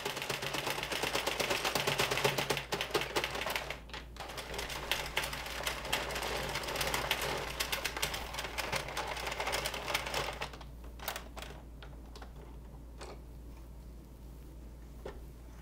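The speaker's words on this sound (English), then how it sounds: "simply crank this off of the machine." An Addi knitting machine cranked by hand, making a steady, rapid mechanical clatter for about ten seconds before the clicking thins out into sparse ticks.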